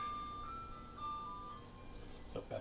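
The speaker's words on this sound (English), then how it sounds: "that's the ice cream man driving" An ice cream van's chime drifts in from a distance as it drives past a home kitchen, a faint steady melody with a few brief clatters near the end.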